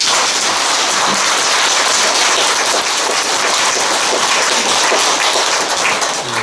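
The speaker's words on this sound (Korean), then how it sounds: "신도님께서 박수를 한번 쳐주십시오." A congregation claps at a Buddhist dharma-transmission ceremony, producing a dense, steady roar of applause that holds loud and unbroken throughout, with no voices over it.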